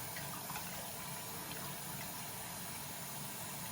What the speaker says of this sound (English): you can rinse this off and rinse the brush